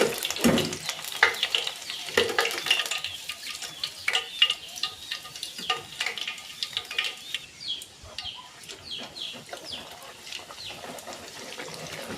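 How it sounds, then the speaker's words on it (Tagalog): Chicken spring rolls sizzle and crackle in hot frying oil, a steady close bubbling hiss dotted with sharp pops throughout, with no talking. "Magpipirito na ako."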